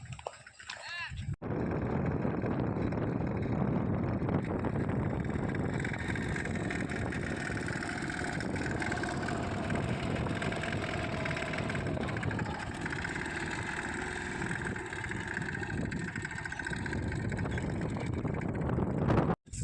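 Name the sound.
tractor engine running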